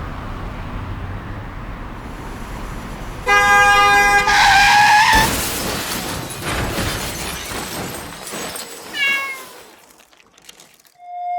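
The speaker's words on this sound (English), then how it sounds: "the cat got into a terrible car accident while walking down the street" Car crash sound effect: a car horn honks loudly, then a sudden heavy smash with shattering debris follows. A cat-like meow comes near the end, with traffic noise throughout.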